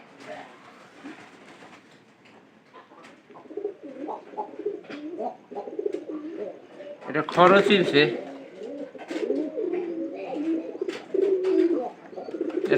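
Pigeons coo in low, throaty bursts close by, mixed with someone talking intermittently.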